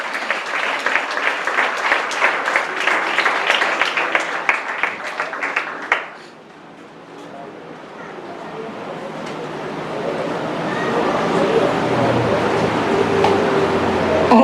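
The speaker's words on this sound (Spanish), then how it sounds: "dele palmas a Dios" Church congregation clapping along during a Spanish-language sermon on the triumphal entry into Jerusalem, a loud rhythmic burst of many hands that stops abruptly, followed by softer crowd noise and murmuring.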